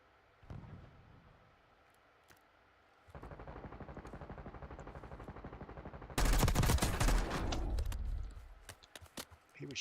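Gunfire in Call of Duty Warzone: a scattered shot, then a long stretch of steady rapid automatic fire, followed by louder, denser bursts that fade into a few final cracks.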